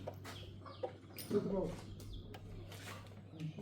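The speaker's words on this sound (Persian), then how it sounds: "امروز صدا مرغه" A hen clucking outdoors in a residential village area, a few faint, short clucks amid quiet background sounds and soft talking nearby.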